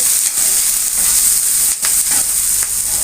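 Chopped garlic and onion frying in a pan for a homemade onion-garlic pickle, giving a loud, close, continuous sizzle with a few brief stirring scrapes and dips in intensity.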